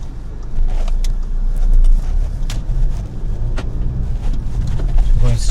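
A learner driver's car starts up and pulls away, a steady low engine rumble with cabin noise and a few light clicks and knocks throughout.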